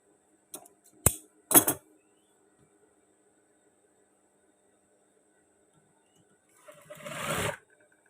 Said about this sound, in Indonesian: Nah, sekarang kita menjahit pas bagian paha teman-teman.